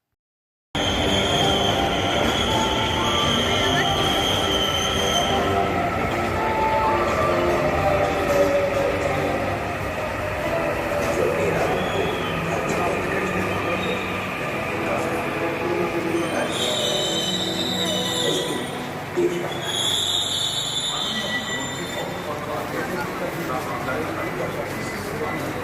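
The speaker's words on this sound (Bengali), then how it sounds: "ওই দেখো মেট্রো চলে এলো।" A Kolkata metro train pulls into the station, rumbling and squealing on the rails with high screeching wheel tones near the end, while a person speaks over it.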